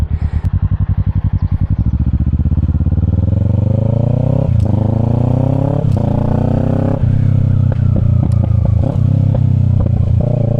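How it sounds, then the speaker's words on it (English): A Kawasaki Ninja 650 with an Akrapovic exhaust, loud and close, starting with a rapid idle throb, then revving up with rising engine tones broken by sharp crackling pops and bangs from the exhaust. "the pops on this is crazy"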